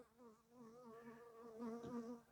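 Bees buzz close by, a steady drone that rises and falls as they hover near, with no other sounds.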